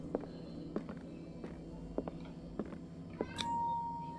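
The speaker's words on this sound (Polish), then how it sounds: "Jakiś kurwa kot." Cat meowing in the video game Path of Exile, a brief faint mew near the end after a run of soft rhythmic footsteps, with no talk.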